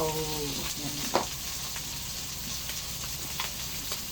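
Steady sizzling of food frying in a pan, a constant crackling hiss with a few faint pops and clinks of a plastic utensil, no talking.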